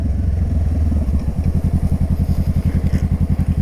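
A motorcycle engine runs close by, its steady low rumble breaking into a fast, even pulsing chug as it is revved and settles, loud and alone with no talking.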